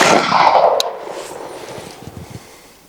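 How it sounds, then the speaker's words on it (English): An air shotgun fires a load of number 4 buckshot through a smoothbore barrel at a 10-yard target: a single sharp report that quickly decays, followed by faint low rumbling. "smoothbore barrel loaded up, number 4 buckshot, 10-yard engagement. Let's go. Fire."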